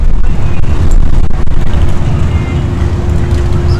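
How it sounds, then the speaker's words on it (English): A drag racing car engine fires up at an NHRA bracket event, a loud, steady low rumble dominating over broad crowd and track noise for the whole stretch. "I hear a car fired up."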